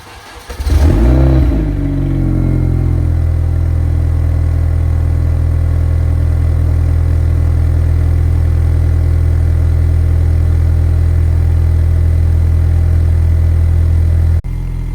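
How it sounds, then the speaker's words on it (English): A car with an aftermarket exhaust cold starts with a sharp crank and loud flare, then drops into a steady, deep, booming idle that holds close and loud until it cuts off near the end. "I'll give you guys a cold start on it, because it has got an aftermarket exhaust, and I'll let you guys hear it"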